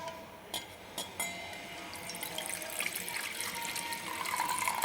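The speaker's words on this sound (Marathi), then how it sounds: "दूध ओतून घेऊ याच्यामध्ये" Warm milk with its cream layer pours from a vessel into a bowl for setting homemade curd, a steady liquid trickle building in volume, with a few light knocks at the start.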